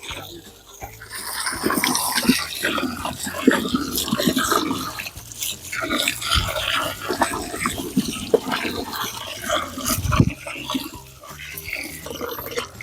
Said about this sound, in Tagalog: Lakas ng tubig no?